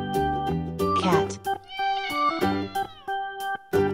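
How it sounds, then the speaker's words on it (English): A cat gives several close, clear meows, some drawn out and wavering, set against a bouncy, repeating musical backing. "Cat."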